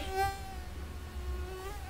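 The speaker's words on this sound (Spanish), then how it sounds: "los mosquitos producen un zumbido" A mosquito's thin, high whine hums steadily for about two seconds, rising slightly at the start and drifting in pitch as it passes near the listener, with no voices.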